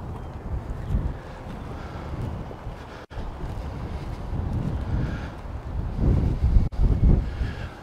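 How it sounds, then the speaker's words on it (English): Gusty wind buffets the front deck of a 35-foot Fountaine Pajot power catamaran trawler, a low rushing roar that swells and eases with brief dropouts, rumbling against the microphone with no talk. "Wind's been blowing."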